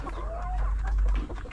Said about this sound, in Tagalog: Meron nangingitlog doon na isang 5 months old mga kanoypi na manok.